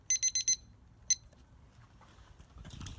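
A kitchen timer sounding while hickory-smoked bacon cooks on a grill: four rapid shrill beeps followed by one more lone beep, then quiet room noise and faint movement.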